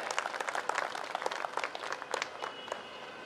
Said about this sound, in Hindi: सभी से गुजारिश करूंगा उनके लिए तालियां बजाएं